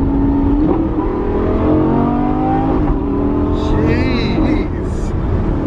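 A Lamborghini in Corsa mode accelerates hard, its loud engine note climbing steadily through the revs with quick single-clutch shifts, close and continuous throughout.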